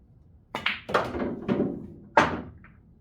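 A billiard cue strikes the ball on a straight-in shot on a pool table, giving four short, close, hollow knocks about half a second apart in an otherwise quiet room.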